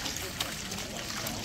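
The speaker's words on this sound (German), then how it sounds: "Guck mal, wie das hier so rumplätschert." Water splashes and trickles beside a hiking trail with a constant close babbling rush and a few brief brighter splashes standing out.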